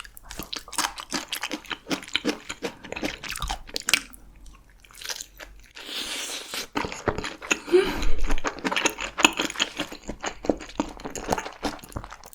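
Close-up crunchy biting and chewing of whole Spam with stir-fried kimchi, with repeated wet bites and mastication sounds throughout, loud and near the microphone.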